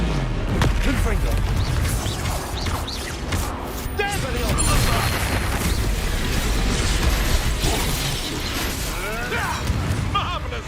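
Repeated Confringo fire-spell explosions in Hogwarts Legacy, booming bursts and crackling magic clashing in a dense, busy battle, with a player shouting spell names over them.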